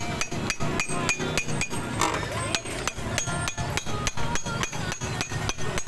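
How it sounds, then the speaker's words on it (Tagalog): A hammer taps a bearing into a motorcycle's front wheel with a series of rapid, evenly spaced metallic knocks, close and fairly bright, carrying on for several seconds with a slight ringing clink. "So, dandan lang mapupok."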